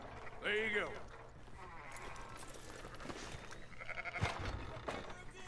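A single sheep bleat rings out early in a video game, followed by faint clopping and rustling under low background noise.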